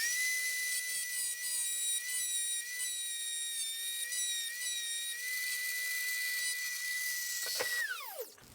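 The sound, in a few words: grinding down metal ring of Walbro fuel pump filter sock plate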